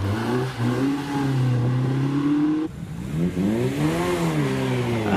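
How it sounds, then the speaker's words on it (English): MG M-Type vintage car launching off the line at a hillclimb with wheel spin, a loud engine revving up through the gears with a brief drop between rising revs, close and unaccompanied by talk. "And away he goes, plenty of wheel spin off the line. The MG M-Type is on his way"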